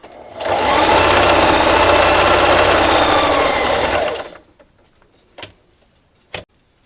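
A sewing machine runs loud and close while stitching a fabric dish scrubber, a fast steady whirring beat for about four seconds, then stops, followed by two sharp clicks.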